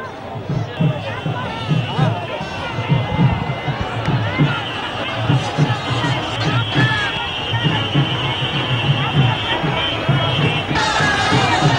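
A dense crowd at a Congress party roadshow for Rahul Gandhi in Varanasi keeps up a steady roar of shouts and cheers, with many voices mingling and rhythmic chanting pulsing through the noise.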